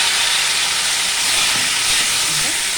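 Green chilies and boiled food hit hot oil tempered with cumin, giving a loud, steady broadband sizzle and hiss that holds throughout.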